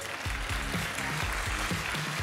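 An audience applauds steadily in a dense wash of clapping that lasts throughout, with a rhythmic, bass-heavy music track playing underneath.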